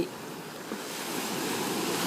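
Sea waves washing onto a beach on Samed Island in the early morning before sunrise, a steady broad hiss of surf that swells slightly louder toward the end, with no voices.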